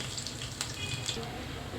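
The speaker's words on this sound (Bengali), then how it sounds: "এখন এর ভিতরে আমি পরিমাণ মতো পানি দিয়ে দেবো যাতে মশলাটা না পুড়ে যায়" Water pours into a pan of browned onions and spices while cooking fish, a soft, continuous splashing trickle heard close but fairly quiet, with no talking.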